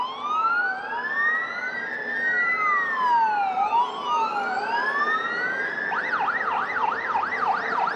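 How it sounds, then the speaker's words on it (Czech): A loud wailing siren sweeps slowly up and down, then switches to a faster warbling yelp, steady and continuous throughout. "Najednou ji přeruší siréna."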